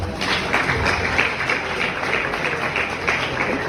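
Audience at a university public lecture applauding, a dense wash of many hands clapping at moderate volume, steady throughout with no clear speech.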